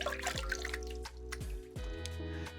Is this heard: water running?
yes